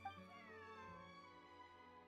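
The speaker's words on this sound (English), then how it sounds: "Is that Lynette with a little kitty?" A cat meows in the video game Genshin Impact, a single drawn-out, quiet meow that bends in pitch, clear and close against a faint background.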